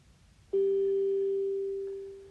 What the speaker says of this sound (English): So you could hear a beep in the background.